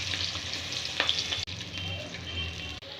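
Onion paste hits hot oil and fries with a crackling hiss, with a couple of quick scraping stirs over three seconds and two abrupt breaks in the sound.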